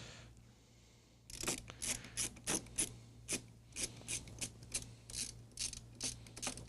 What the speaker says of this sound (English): I'm only going to put a couple of screws in the back for right now